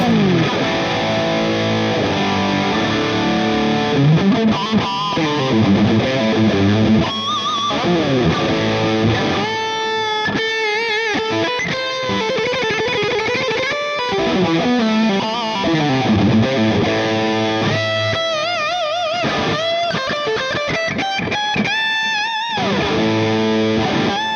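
A Super Telecaster electric guitar plays heavily distorted lead lines and riffs, loud sustained notes, bends and fast runs ringing continuously, with no talking.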